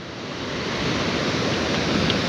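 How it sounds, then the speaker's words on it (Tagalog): Rushing water at Togonon Falls, a broad, steady roar of falling water heard up close, building slightly in strength with no voices over it. "Kung narinig nyo ang ingay ng tubig."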